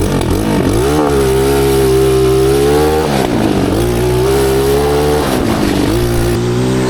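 Go kart with a cheap 250cc five-speed engine accelerating hard in second gear, loud and close, the revs climbing in repeated surges with brief dips between them, no talking over it.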